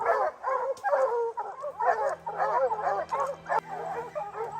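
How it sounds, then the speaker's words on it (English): A pack of hunting dogs barks and yips excitedly in rapid, overlapping bursts, close and loud, with some whimpering mixed in and a low steady hum underneath. "the pack of hunting dogs rushed like living arrows, their barks echoing through the mist"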